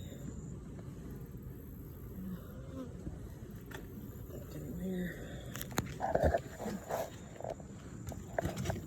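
Honey bees buzz around backyard beehives in the morning, a low droning hum under scattered bumps and handling noises, with occasional louder close knocks near the hive toward the end.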